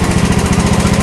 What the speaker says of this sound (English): Just great lawnmower, and now I'm gonna start it for you guys